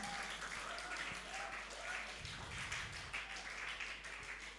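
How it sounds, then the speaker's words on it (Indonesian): Applause from a school congregation at a junior high worship service, a steady broad wash of many hands clapping at moderate distance, faint overall, with a short low rumble partway through. "Berikan tepuk tangan untuk kemuliaan nama Tuhan"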